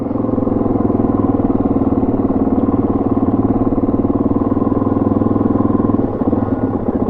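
A motorcycle idles quietly out of a camp at Loyalty Beach near the tip of Cape York, Australia, a steady low mechanical thrum with a fast even pulse, close and continuous, easing off near the end.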